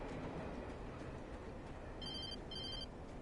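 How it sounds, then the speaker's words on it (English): A telephone rings in the video game Alan Wake Remastered, two short, bright electronic ring bursts sounding faintly over a constant low rumble at a train yard. "Oh, telephone."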